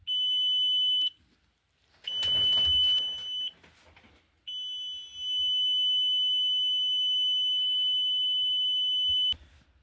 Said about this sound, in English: Sorry for all that beeping.